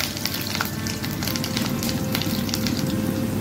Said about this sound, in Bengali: এবার ছেড়ে দেবো আলুগুলো, কেটে কেটে রেখেছিলাম ছোটো ছোটো আলুগুলো